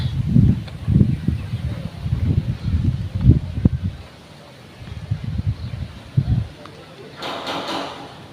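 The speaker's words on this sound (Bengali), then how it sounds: "বাইরে দেখো কি বাতাস অনেক বাতাস" Strong wind with light drizzle gusts outside an open gate, buffeting the microphone in repeated deep rumbling bursts, then easing into a calmer hiss near the end.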